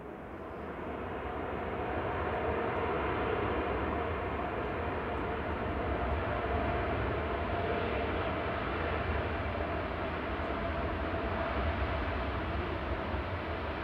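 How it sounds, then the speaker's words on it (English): A Qatar Airways Boeing 787-9 inbound from Doha comes over the threshold to land at Manchester Airport, a steady, broad, continuous engine roar that swells in the first seconds and then holds loud and even throughout, with no voices. "Qatar's just coming over the threshold, coming in from Doha, flight 21. This is a 787-9"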